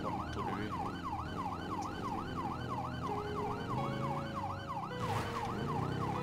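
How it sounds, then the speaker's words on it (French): A wailing American police siren in a video game cycles up and down in a rapid, regular rhythm, loud and close, with engine rumble underneath. "entendre le son des sirènes américaines"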